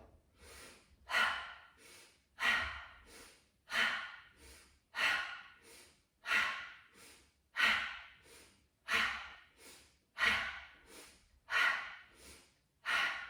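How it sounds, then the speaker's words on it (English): Forceful exhales through the mouth during a yoga chopping movement, about ten heavy breaths in a steady, even rhythm, close and alone with no talk. "breathing out through the mouth as you chop"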